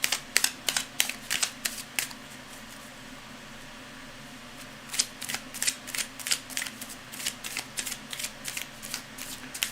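Tarot cards being shuffled give quick bursts of crisp riffling and flicking, in two spaced runs of sharp repeated snaps over a faint steady hum, close and fairly quiet, with no talking.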